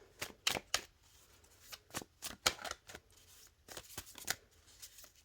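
A Sacred Creators Oracle card deck is shuffled close up, giving quick papery riffles and soft slaps in uneven bursts over about five seconds with short gaps.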